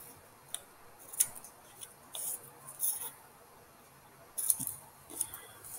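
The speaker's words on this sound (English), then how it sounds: "So you're just going to cut the candle along the dotted line." Scissors snip through a paper candle cutout along a dotted line, a series of faint, crisp, irregular clicks and snips close by in a quiet room.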